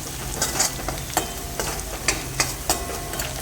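Asafoetida hitting hot oil in a home tempering of cumin and mustard seeds, giving a steady close sizzle broken by sharp spoon-and-pan stirring clicks at a regular pace, with no voices.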